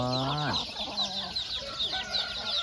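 Chickens cluck and squawk close by on a rural farm, with a rising-then-falling call at the start followed by softer scattered clucks and chirps.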